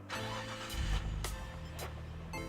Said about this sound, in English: Now let's fire up the engine.